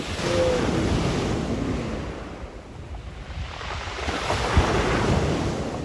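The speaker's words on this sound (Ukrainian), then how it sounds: "зараз підходить більша хвиля." Sea waves breaking on a beach in Albania, a loud, close, continuous roar of surf with wind buffeting the microphone, swelling and easing as one wave recedes and another rolls in, with no talking.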